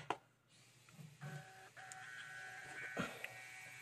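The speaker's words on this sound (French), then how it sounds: "elle m'a imprimé quelque chose" A Bluetooth label printer from Action feeds out a label with a soft whirring motor and a few light clicks, close by with no talking.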